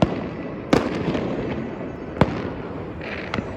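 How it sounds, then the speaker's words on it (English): Fireworks burst over Warsaw on New Year's Eve, several sharp distant bangs spaced irregularly against a low, steady city rumble, with no talking. "There's a few people looking at the fireworks."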